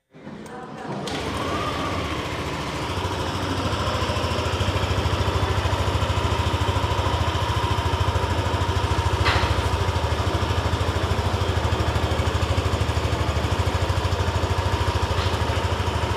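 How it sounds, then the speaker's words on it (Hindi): A 2025 Yamaha Aerox 155 Version S scooter engine starts up and settles into a steady, close idle, a low continuous hum with light mechanical chatter and no one speaking. "तो चलिए इस स्कूटर को मैं आपको एक बार स्टार्ट करके यहाँ पे दिखाता हूँ।"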